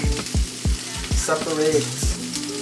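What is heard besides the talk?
food sizzling while frying in a pan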